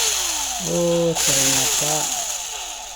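An electric drill runs on a UPS converted into an inverter, giving a loud motor whine in a few stepped bursts that rise and fall, while a person briefly speaks.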